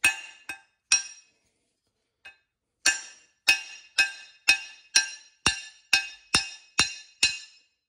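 Metal hammer blows on a spring on a power steering rack, sharp ringing clinks: a few scattered strikes, a pause, then a steady run of about ten evenly spaced hits, loud and close with nothing else heard.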